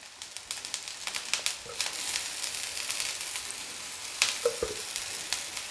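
Multigrain vegetable tikkis fry in oil in a pan, a steady soft sizzle with light crackles and a few faint scraping taps nearby.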